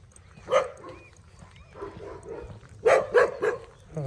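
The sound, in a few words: dogs barking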